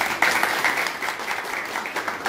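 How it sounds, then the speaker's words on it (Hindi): Students in an electronics classroom give a short, dense burst of clapping that fills the room, loud and close, lasting only a couple of seconds. "ताली बजा दो इनके लिए।"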